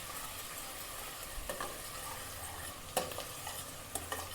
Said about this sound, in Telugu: ఉల్లిగడ్డలు మంచిగా వేగిపోయినాయి.